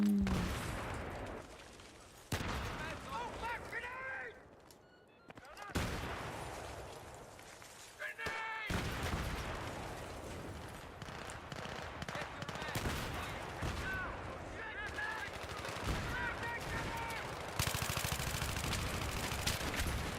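Shotgun and pistol gunfire in a video game, dense and loud, with overlapping shots and booming blasts rolling almost continuously, mixed with game noise and voices in the background.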